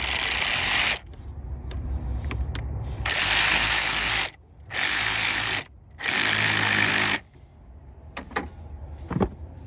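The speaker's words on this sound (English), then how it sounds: "I'm gonna go ahead and tighten up the clamp here first" Ratcheting on a hose clamp during a high-pressure fuel pump replacement on a Honda Accord, with several loud sustained bursts of rapid clicking separated by brief pauses and scattered metallic taps.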